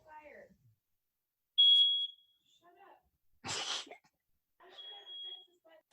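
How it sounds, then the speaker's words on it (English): A smoke alarm gives two sharp, high-pitched chirps a few seconds apart, with brief rustling and a breathy burst in between. "Hold for fire alarm"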